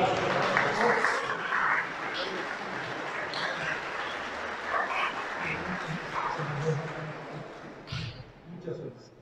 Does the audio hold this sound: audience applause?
yes